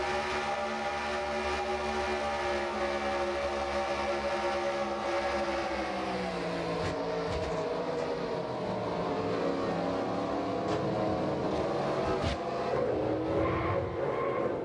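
Racing truck engines drone and shift pitch continuously in a video game truck race, with tire squeals and a couple of sharp impact bangs near the end as a truck gets punted.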